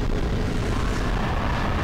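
Explosion-like death sound of a character in Dark Souls Remastered, a dense, loud, sustained rumbling burst that fills the whole short stretch with no voice over it.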